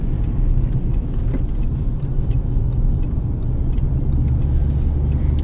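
A 2020 Lada Granta with an automatic gearbox drives over the first snow, giving a steady, close low engine and road rumble with tyre hiss that holds even throughout, without gear changes or talk.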